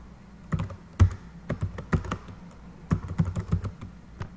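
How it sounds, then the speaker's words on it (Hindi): Keys on a computer keyboard are typed while working in an Excel spreadsheet, in close, irregular bursts of keystrokes with brief pauses between them. "कीबोर्ड कहाँ चला गया मेरा"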